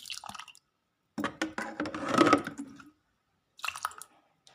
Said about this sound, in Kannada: ನಾನಿವಾಗ ಮೊಸರು ಹಾಕ್ತಾಯಿದ್ದೀನಿ ನೋಡಿ ಮೊಸರು ಹಾಕ್ಬಿಟ್ಟು ನೆನೆ ಇಡೋಣ